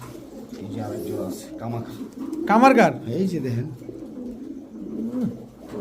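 Pigeons at a market stall, Pakistani Teddy, Damascene, Budapest and racer breeds, coo in soft repeated throaty calls close by, with one louder burst in the middle, while someone talks over them throughout.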